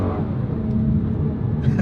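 An Aston Martin DBS with a V12 engine roars loudly and steadily up close, a deep sustained rev with a rumbling low end and no voices.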